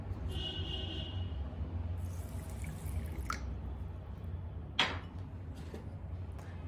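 Water is poured and drips onto roughly ground flax seeds in a small bowl, faint wet trickles and a few soft drips against a quiet background hum, with no one talking.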